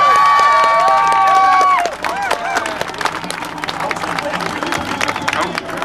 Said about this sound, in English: Let's give him a big round of applause and screams.